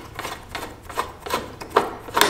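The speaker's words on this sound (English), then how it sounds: "We'll unscrew those and remove these two side plates." Screws being turned out of the side plates on a Minn Kota trolling motor, heard as a series of short, close scraping rasps spaced roughly every half second, fairly quiet with no talking.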